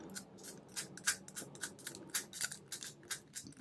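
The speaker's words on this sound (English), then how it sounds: "give it a really good shuffle" Quick clicking and ratcheting as the wheels of a 4-wheel combination lock are spun, in rapid irregular bursts close by with no talking.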